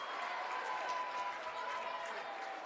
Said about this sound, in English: The Sacred Heart contingent is standing on his feet, cheering their team on.